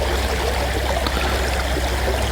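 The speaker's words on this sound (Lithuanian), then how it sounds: "Prie mūsų bėga upelis." A small stream babbles beside a campsite, a steady, even rush of flowing water filling the short stretch without pauses or voices.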